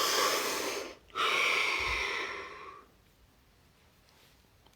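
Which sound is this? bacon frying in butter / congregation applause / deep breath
deep breath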